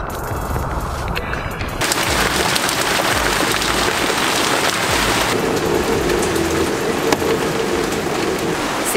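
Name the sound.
heavy rain and thunderstorm on a sailboat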